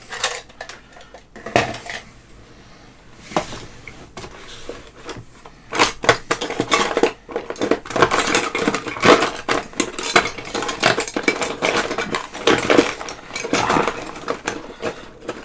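A pile of spatulas is handled and sorted, giving irregular bursts of metallic clatter and clinking, sparse at first and then busier and denser, close and fairly loud with no talking.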